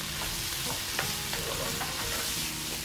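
Garlic, onion and tomato sautéing in a pan for ginisang mustasa, a dense continuous sizzle with faint scattered ticks of stirring, no voice.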